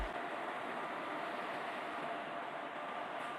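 A train rumbles steadily from the mobile game Indian Train Crossing 3D, a continuous even engine and rail drone with no talk over it.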